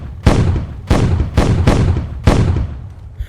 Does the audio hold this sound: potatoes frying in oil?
no